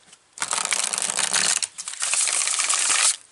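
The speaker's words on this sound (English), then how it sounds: "Yes, these cards shuffle really nice," Tarot cards being shuffled by hand, a soft rapid riffling and flicking that runs almost continuously for about three seconds with a short dip in the middle, close and fairly quiet with no talking.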